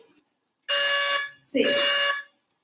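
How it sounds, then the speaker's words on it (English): Two loud electronic buzzes from a spelling bee contest buzzer, each a steady harsh tone lasting about half a second, one after the other with a short gap. "Press your buzzer, please."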